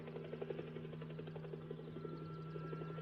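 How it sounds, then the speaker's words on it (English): Approaching helicopter in a war film, a faint, steady rhythmic rotor chop with a sustained low engine hum throughout. "Helicopter."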